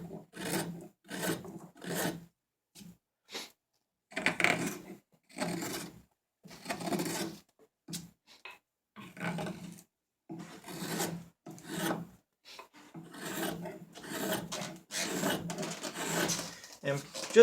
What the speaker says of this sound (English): we're just going to start hollowing this out very carefully and slowly